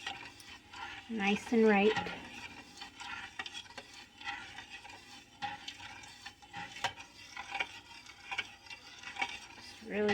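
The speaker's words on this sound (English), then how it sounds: "we're gonna take the spoon here, and then we're gonna mix this all together" A spoon stirs raw goat's milk inside an Instant Pot, giving soft scraping and swirling sounds with a few brief metallic clinks early on, heard up close while a person speaks briefly.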